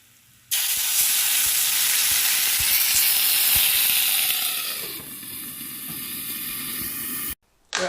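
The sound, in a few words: potstickers sizzling in a pan as water is added to steam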